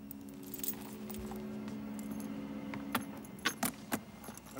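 A bunch of prison cell keys jangling as they are handed over, a few sharp metallic clinks growing busier toward the end over a low steady hum.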